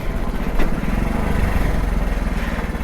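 Motorcycle engine, a Splendor, labouring loudly up a rocky off-road climb near Dharmapuri, a close, rapid throbbing exhaust pulse that swells and strains throughout.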